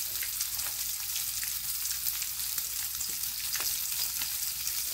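Sausage frying in a pan for breakfast tacos, a steady hiss and crackle of sizzling fat, close and continuous with no talk.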